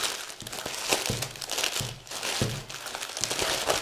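Wrapping around a mixed Mother's Day flower bouquet being gathered up by hand, close-up crinkling and rustling in irregular crackly bursts, with no talking.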